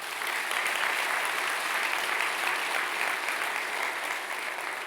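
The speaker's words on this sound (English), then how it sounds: "I want to give them a round of applause and thank them personally" A large audience claps steadily through a Medal of Valor ceremony at a church venue, a dense, even round of applause that holds at a constant level from start to finish.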